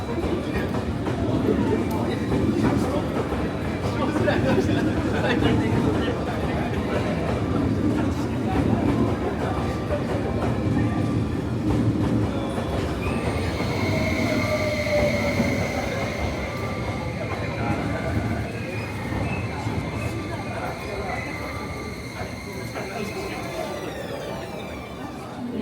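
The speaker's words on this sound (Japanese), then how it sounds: "列車は8両で到着します。" A Shinkansen bullet train pulls into a station platform on a route through Shin-Kobe: a steady, loud rumble fills the scene, with a rising electric whine and high tonal squeal in the latter half, under a platform announcement and voices.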